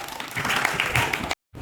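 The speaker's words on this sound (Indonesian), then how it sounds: "tepuk tangan untuk mereka doang." Short burst of group applause for a group of students during a lesson, moderately loud and close, cut off abruptly before a faint resumption.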